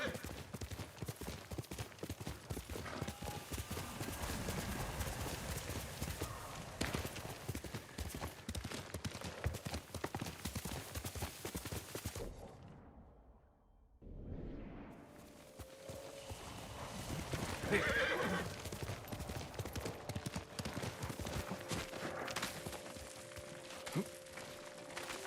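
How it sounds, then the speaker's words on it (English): Horse hooves clip-clopping steadily in the video game Ghost of Tsushima, a continuous rhythmic trot with a brief quieter dip midway and wind-like ambience behind. "My horse is behind me."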